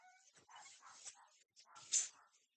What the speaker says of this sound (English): Now you might hear the dog bark a little in this video.